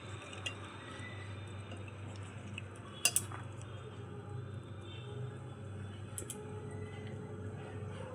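Bhetki fish pieces worked into a sugar-sweetened marinade in a kitchen bowl give soft, faint squishing with a couple of sharp utensil clinks against the bowl, without voices.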